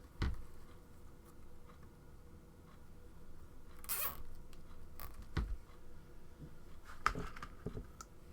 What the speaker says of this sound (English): So again, take another zip tie.